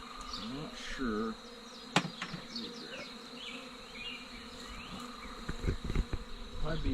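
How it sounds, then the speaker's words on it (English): A wild honey bee swarm buzzes steadily and close, thousands of bees droning in a continuous hum with a few louder passes near the listener; no one speaks. "How many bees are around us?"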